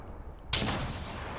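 Apex Legends video game gunfire: one sudden sharp blast about midway after quiet, followed by a sustained rushing roar that stays loud to the end.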